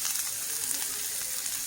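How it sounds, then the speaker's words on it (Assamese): Onions sizzle in hot oil in a pan for an Assamese bitter gourd dish, a steady close hiss of frying with no voices. "পিঁয়াজখিনি ভাজি লওঁ"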